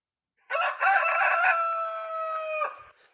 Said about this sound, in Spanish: Sonidos de animales, como el gallo.